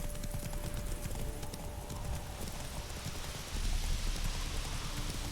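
Hooves of Roach, a horse in The Witcher 3, clip-clop steadily at a walking pace, close and fairly faint over a soft rain-like game ambience, with brief quiet voices underneath.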